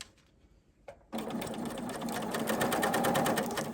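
A Soft Lock serger sewing machine stitches a woven denim potholder, starting after about a second of near silence with a few faint taps, then running steadily and close at a fast, even hum-and-clatter to the end.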